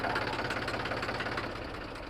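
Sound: tractor engine idling

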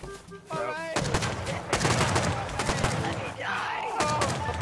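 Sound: gunshots in the video game Rust

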